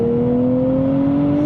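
Engine of a 2024 Nissan Z Nismo accelerating, a loud, steady rising drone as revs climb smoothly over a brief moment, with no voices.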